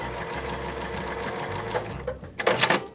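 Sewing machine running a quarter-inch seam through quilt fabric, a steady close rapid stitching whir that sputters into a few louder clattering bursts as it stops.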